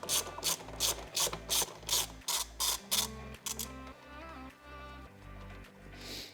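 A hand ratchet loosens a 10 mm bolt on the air box of a Suzuki Swift 1.2 VVT engine, with about eight loud, close, evenly spaced clicking strokes before it turns softer and stops.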